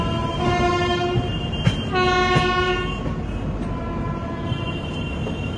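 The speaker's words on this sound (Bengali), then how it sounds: "ট্রেন এখন স্টেশনে ঢুকছে" The Poorva Express passenger train, running from Howrah to New Delhi via Gaya, rolls loudly into a station with a steady rumble of wheels and carriages, broken by short sharp horn blasts near the middle.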